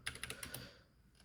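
Rapid keystrokes on a computer keyboard as an npm install command is typed, a close burst of clicks that thins out toward the end.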